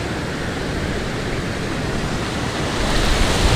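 Surf at Muriwai beach, with waves breaking along the lip of a trough, fills the air as a dense, steady roar that swells slightly toward the end, with no voices.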